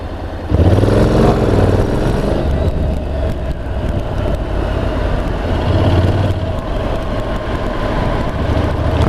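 A Honda NC750X DCT motorcycle engine pulls under light throttle, a loud, steady low drone with a rising tone as revs climb and wind rush close around it.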